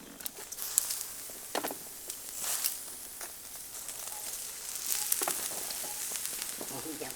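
Pork neck grills over charcoal with a constant crackling sizzle of dripping fat, loud and close, rising into bursts of hiss and spatter.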